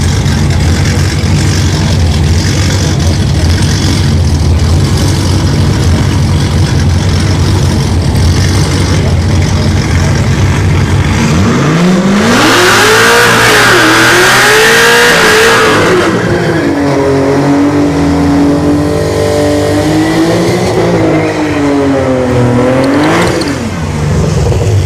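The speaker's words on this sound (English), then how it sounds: "Nice burnouts between these two." Drag racing cars, including Cadillac CTS-V models, do burnouts at a drag strip with a loud continuous engine roar, then rising and falling revs as the throttle is blipped repeatedly, close and dominating throughout.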